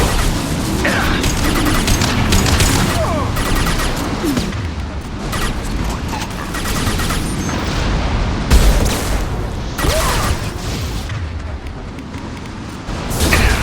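Sustained gunfire and booming blasts from a Mass Effect 2 firefight, dense and loud throughout with repeated heavy impacts and crashes layered over constant battle noise.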